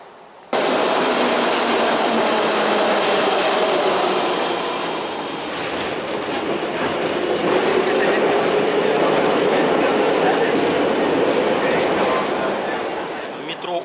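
A Kazan metro train rumbles along, its steady mechanical roar rising and swelling through the carriage as a voice talks over it.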